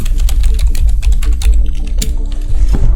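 Fast typing on a computer keyboard, a dense run of close, loud key clicks with a steady low hum underneath and no voices.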